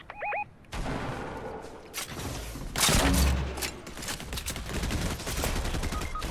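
Pistol fire in a video game squad match, sharp shots in quick succession over busy ambient game noise, with a short chime at the start and a louder blast in the middle.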